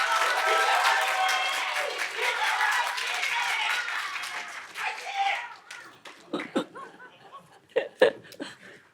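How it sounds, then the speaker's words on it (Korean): Audience at a public HRD teaching contest final applauding a police academy professor as she comes up to present, steady clapping for about five seconds that thins into a few scattered claps amid soft laughter and brief voices. "큰 박수 부탁드립니다."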